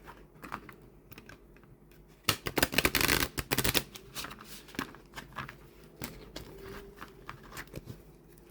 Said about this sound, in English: Overhand shuffle.